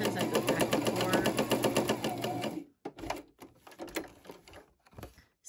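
A sewing machine runs stitching zigzags onto a paper card for a Headless Horseman light-up card, a dense continuous mechanical rattle for nearly three seconds, then stopping into scattered short bursts and handling noises.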